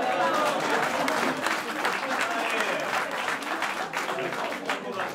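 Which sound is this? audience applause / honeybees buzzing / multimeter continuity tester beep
audience applause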